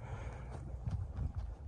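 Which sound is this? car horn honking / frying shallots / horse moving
horse moving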